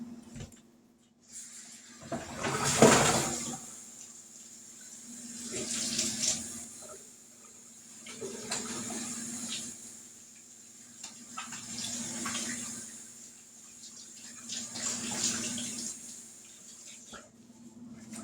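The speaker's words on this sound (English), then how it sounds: "Wash my hands." Hands are washed under a running kitchen tap. Water splashes close by in several pulses as the hands move in and out of the stream, with a steady faint hum beneath.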